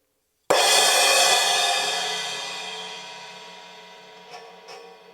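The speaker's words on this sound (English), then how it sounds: "This is called a Fast Crash 14 Paiste signature line." A single bright Paiste Signature 14-inch Fast Crash cymbal bursts out and rings with a long, shimmering decay that slowly fades, followed by a couple of faint taps near the end.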